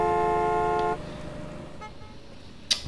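A customer's car horn in Gas Station Simulator blares one long, loud, steady honk, then gives a brief short toot after a pause, with no talk over it.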